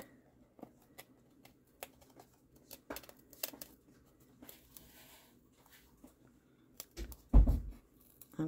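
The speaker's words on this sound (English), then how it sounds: "I might be able to just do it with the scissors." Scissors snip along the edge of a book cover board while a fabric spine is made, producing quiet, close, irregular clicks and crunches, with a louder rustle of handled material near the end.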